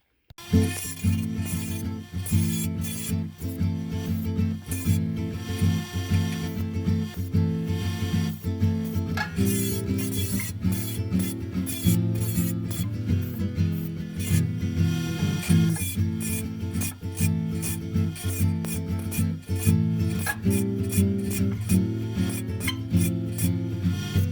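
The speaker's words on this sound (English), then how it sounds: "I'm going to put this on the bench grinder and clean up these rough edges" A bench grinder grinds steel edges on an abrasive wheel in a continuous, harsh rasping noise, with brief repeated scraping strokes and no talking.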